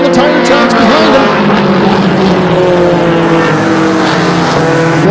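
Mini stock race cars circle Flamboro Speedway, their engines a loud, continuous buzzing drone with rising and falling pitch as several cars pass close by.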